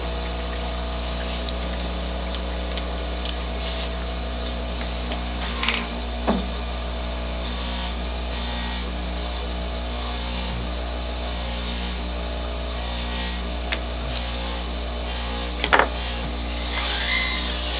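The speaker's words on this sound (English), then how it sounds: "what I'm going to do is I'm going to use a cup burr" A rotary tool spins a cup burr to round the prongs of a four-prong jewelry head holding a 1.66 ct diamond, giving a steady, fairly faint whir that runs unbroken with a few small clicks.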